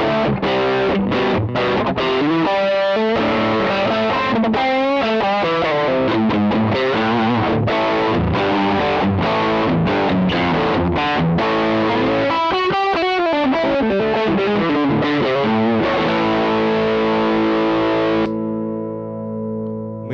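A 2017 Ibanez GRG170DX electric guitar played through heavy distortion plays a loud, continuous run of riffs and bends, ending on a sustained chord that rings out alone.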